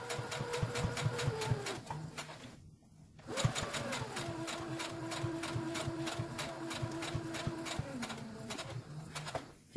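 A sewing machine stitching a cotton mask runs in fast, steady mechanical clatter, briefly stopping once before resuming with the same even rhythm up close.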